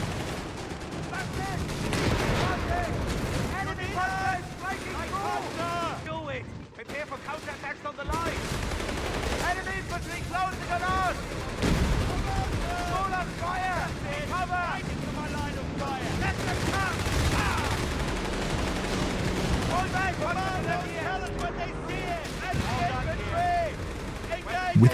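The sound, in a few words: machine gun and gunfire in video game Company of Heroes 3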